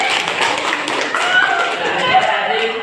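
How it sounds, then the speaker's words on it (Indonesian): Classroom applause from students during a lesson, a dense, steady patter of many hands clapping close by with voices mixed in, holding an even level for about three seconds. "Tepuk tangan dulu."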